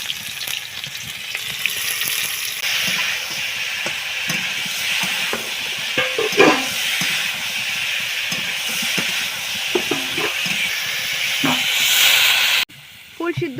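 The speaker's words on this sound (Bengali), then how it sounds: "ফুলকপি তরকারি হচ্ছে এখন" Cauliflower curry hissing and sizzling steadily in a pan at close range, with stirring clatter and voices talking at times over it.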